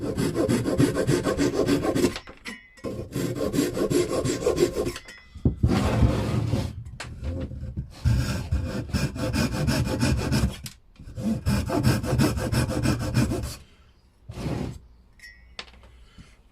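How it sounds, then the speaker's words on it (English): Sandpaper rubs back and forth over a wooden step stool by hand in close, raspy bursts of strokes separated by short pauses. "Now we're going to do one more sanding."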